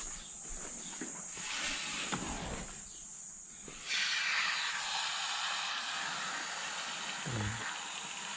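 An aerosol can of MXS foam cleaner hisses steadily as it sprays into a car's air conditioning vents, in one long, close burst with a brief pause partway through and a soft thump near the end.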